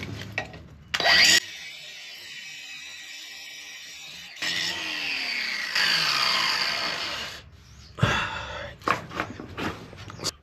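Grinding off bolts on a BBQ trailer smoker mount brings loud bursts of an angle grinder biting metal, separated by pauses and quieter stretches.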